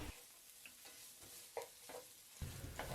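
Empanada filling of minced garlic with peas and carrots is stirred in a hot pan, a steady sizzle with several scraping strokes of the spoon close by.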